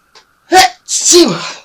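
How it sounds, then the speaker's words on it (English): A loud, close sneeze: a short sharp intake followed by an explosive burst that trails off, with a brief breath just before. "Oh, I'm going to sneeze."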